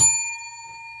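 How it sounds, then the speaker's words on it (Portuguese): A bell rings once as a signal, a single bright strike whose clear ringing tone decays steadily, heard alone. "pode ser uma campainha"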